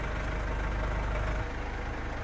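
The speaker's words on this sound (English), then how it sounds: "Start the engine." Mercedes Sprinter W906 diesel van engine idling with a steady low rumble, close and continuous, with a slight change in tone midway and no talking.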